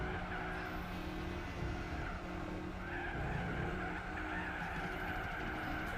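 Tyres squeal and skid continuously through a Gran Turismo 4 online race, the high screech sitting over a steady roar of engines close by, with no pauses across the stretch.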